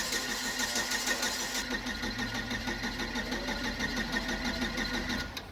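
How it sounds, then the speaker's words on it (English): A car engine that won't start and has been backfiring cranks over with a steady, fast rhythmic churn close by. Its pitch shifts partway through, and the cranking keeps going without firing into a run. "Cranking."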